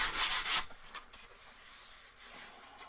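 A balsa wood blade is sanded by hand, with a burst of quick rough strokes at first, then softer, fainter rubbing passes.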